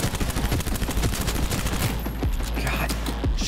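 Gunfire in Cyberpunk 2077 rattles in dense, rapid bursts, loud and close, with a short lull and a few heavier shots near the end.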